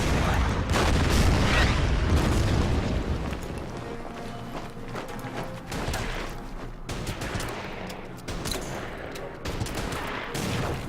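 Gunfire rings out at conscripts in the wartime strategy game Order of Battle, a dense, continuous rumble of shots and booms that is loudest at the start and then settles into a rougher, ongoing battle noise.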